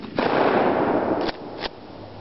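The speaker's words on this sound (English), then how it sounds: "first round, 12 gauge shotgun slugs." A 12 gauge shotgun firing a Lee 7/8 oz slug, one loud close blast with a long sustained roar and a couple of sharp cracks after it, no talking.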